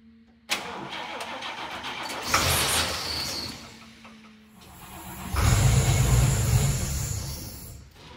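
A 1954 International Harvester Metro Van's engine, fitted with an electric fuel pump, cold starts: it cranks and sputters to life, revving unevenly with a rough, loud idle, then surging louder after a pause.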